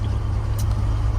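Low rumbling engine of a Chevrolet C10 pickup truck idling and taking a little gas as the clutch is let out in a small parking lot, a steady, close, deep throb with no voices.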